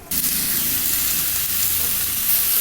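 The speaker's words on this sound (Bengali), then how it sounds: "ঢ্যাঁড়স আলু চচ্চড়ি বসিয়ে দিয়েছি" Okra and potato curry sizzles and fries steadily in a pan, a continuous close, loud crackling hiss with no voices.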